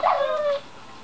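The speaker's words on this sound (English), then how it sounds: "One dog follows me." A dog in the Minecraft video game lets out a single high, drawn-out whimper that trails off after half a second, clear and close with no talk.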